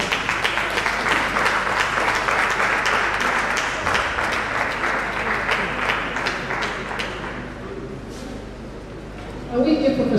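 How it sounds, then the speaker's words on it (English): Audience applause after a lecture on human-centered AI, loud and continuous for several seconds before fading, then a speaker's voice returns. "we give Professor Olashadoga a big round of applause"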